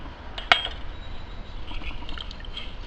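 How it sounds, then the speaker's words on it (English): Orange juice squeezed by hand into a BBQ basting sauce, a brief sharp squirt followed by soft liquid trickles and drips, close and fairly quiet. "Squeeze the juice right into the sauce."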